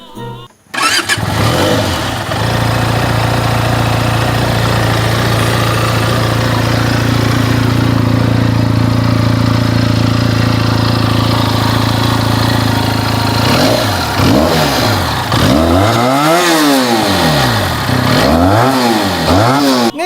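A Benelli 302R motorcycle engine starts and idles with a raspy exhaust, then is revved repeatedly in rising and falling bursts, loud and close.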